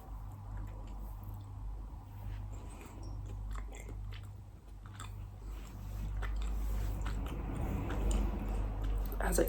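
Chewing on Red Leicester cheese dipped in Carolina Reaper hot sauce, with close, moist bites and crunching that run steadily through the clip under light room noise.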